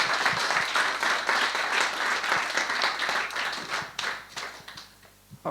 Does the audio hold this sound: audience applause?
yes